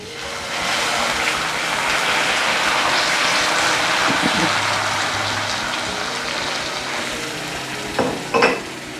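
Warm water hits semolina roasting in a pan for thari kanji, setting off a loud, steady sizzling hiss that lasts throughout, with a couple of brief clinks near the end.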